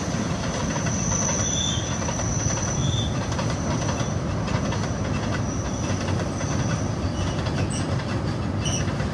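An Indian Railways train hauled by a WAG-7 electric locomotive rolls past with parcel coaches and a guard's van, a steady loud rumble of wheels on rails with rhythmic clatter and faint squeals throughout, close by and continuous.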